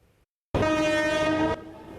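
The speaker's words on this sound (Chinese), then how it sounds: "火车慢慢开入这个有100年历史的本基湖车站" A train horn blasts loud and steady for about a second at Fenqihu station, a century-old mountain rail stop in southern Taiwan, as the train slowly pulls in, followed by lower rail rumble.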